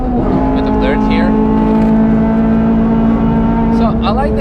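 A Honda Civic FD2 Type R with no brakes is driven on the Nürburgring, its engine a loud, steady droning note held without a break, close to the microphone.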